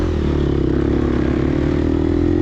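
A Gas Gas EX250F dirt bike pushed hard on the throttle during a dusty harescramble race, its engine a loud, continuous close-up drone with a rough clattering edge throughout.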